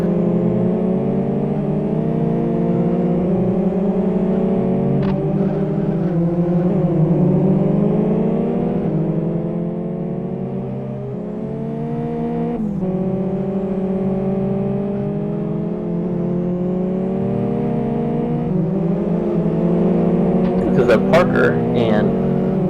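Stock cars drone around an oval track at the 2014 Fern Bay 150, their engines humming and shifting pitch as they pass through the turns. A commentator talks over the steady roar for the whole stretch.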